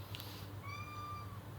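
A Norwegian Forest cat named Banouk gives one drawn-out, rising-then-falling meow, faint and fairly close, over a quiet room hum.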